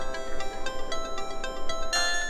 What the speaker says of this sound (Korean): 그때 전화벨이 울렸다.